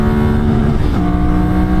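A Ducati Monster 796 motorcycle engine revs hard and close, its steady harmonic drone holding, then briefly dipping and rising again, with no voices over it.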